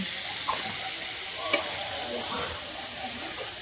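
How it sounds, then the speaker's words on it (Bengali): Potatoes frying in a pan with salt, turmeric and other spices, a steady broadband sizzle with a few soft stirring scrapes throughout, close and moderately loud, without speech. "আলুটা অল্প অল্প ভাজা হয়ে গেছে বলেই একে ওর উপরে সব কিছু দিয়ে দিচ্ছি।"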